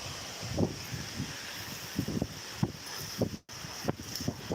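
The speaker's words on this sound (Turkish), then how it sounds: "Şu rüzgarlı yağıyor." Wind gusting through a light, windy rain, buffeting the microphone in low, uneven bursts against a quiet, steady hiss, with one brief dropout near the end.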